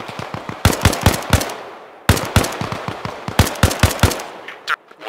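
Gunfire in the military video game Arma Reforger: two loud bursts of rapid automatic shots crack close by, separated by a short pause, followed by a few scattered single shots.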